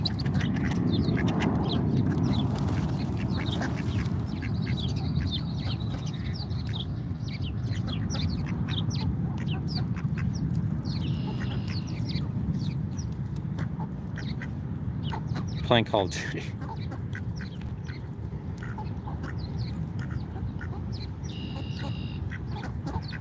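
Ducks quack repeatedly at an outdoor protest in Washington DC, their calls mixed into a constant crowd murmur and nearby talking, with occasional sharper honks standing out around the middle.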